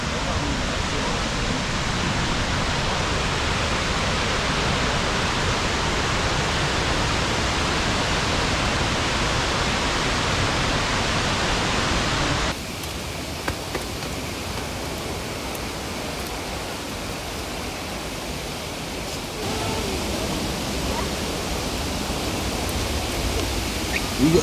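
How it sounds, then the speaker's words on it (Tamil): Water pours down steadily near the living root bridge in Meghalaya's Cherrapunji, a broad, close roar that runs unbroken and thins slightly partway through. "இங்கே தண்ணி விழுது"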